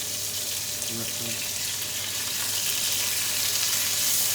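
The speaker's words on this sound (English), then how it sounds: "Right, flip these burgers and I'll show you." Burgers sizzling in a hot pan as they are flipped, a strong continuous frying hiss up close with a few soft clanks of the spatula near the start, no talking.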